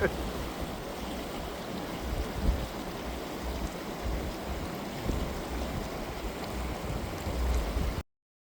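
A river rushes past in the mountain village of Chitkul, a steady, dense wash of flowing water heard close and continuous.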